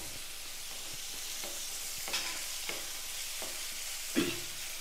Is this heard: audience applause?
no